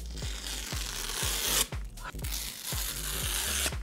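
Unboxing of a white Apple Magic Keyboard for a 13-inch iPad Pro: close, steady papery scraping and tearing rustle from the box, broken by a rhythm of soft thumps and a brief pause midway, with no talking.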